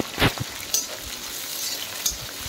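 Chopped onions, three or four of them, sizzle and fry in hot oil after tempering spices for a chicken fry, with a few stirring scrapes and pops standing out over a steady soft crackle, close and fairly quiet.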